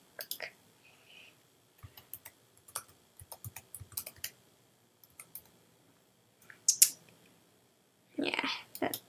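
Password being typed on a computer keyboard, scattered bursts of quick key clicks in uneven rhythm, close and quiet, with a few louder clacks near the end and faint murmured speech.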